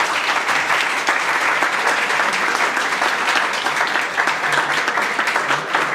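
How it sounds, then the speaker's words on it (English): Dense, steady applause from a large audience at a debate competition, loud and continuous for several seconds with no pauses. "everybody clap for Swarnima's team."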